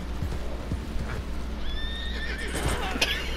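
A horse in the video game Red Dead Redemption 2 gives a loud, clear whinny over the steady clip-clop of its hooves, with the neigh rising and falling in the latter half against a constant game background.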